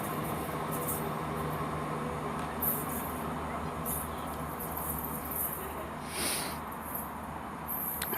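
Passenger train units, a 158 and a 150 working together, rumble at Severn Tunnel Junction station, with a steady low engine drone and hum, light rattles and soft hissing bursts throughout.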